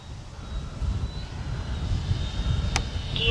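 A Freewing F-22 90mm RC jet flies overhead, its ducted fan giving a steady, fairly distant roar under outdoor wind noise, with a brief sharp click near the end.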